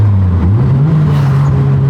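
Turbocharged Mitsubishi Evo with short gearing accelerating hard, a loud, steady engine drone rising slightly in pitch as it pulls, heard from inside or close by with no talk.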